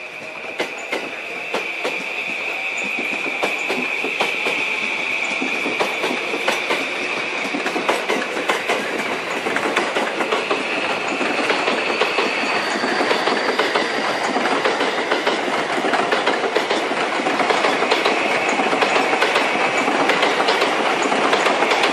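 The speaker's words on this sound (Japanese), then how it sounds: "銚子行きが到着します。" A six-car train pulls into Sakura station bound for Choshi: a loud, steady rumble of wheels with rhythmic clickety-clack and a sustained metallic squeal, continuing unbroken for about twenty seconds with no talking.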